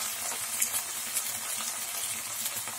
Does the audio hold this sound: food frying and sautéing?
yes